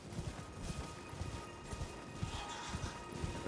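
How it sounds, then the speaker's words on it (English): Steady clip-clop of horse hooves as a character rides across open ground in the video game Elden Ring, a quick continuous rhythm under faint ambient game sound. "this time my character actually remembers how to ride the horse"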